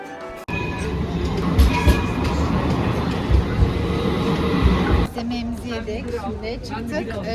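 A tram rumbles past close by in Sultanahmet, Istanbul, for several seconds with rail clatter and low thuds, then fades as people talk in the background.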